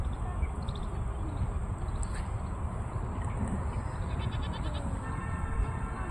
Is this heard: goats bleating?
yes